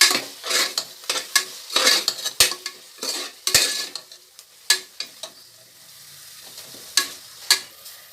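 Tomato, mint and coriander leaves sauté in a pan while a metal spoon stirs them. Sharp scraping clinks come at an irregular rhythm over a soft sizzle, close and clear with no talking.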